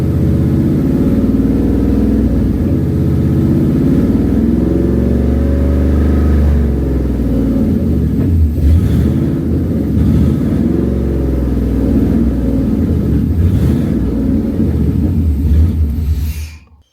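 A car engine runs during break-in, a loud steady rumble close by with repeated swells as the revs rise and fall, continuing for a long stretch before shutting off abruptly.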